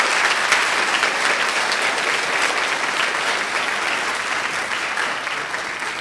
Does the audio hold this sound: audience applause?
yes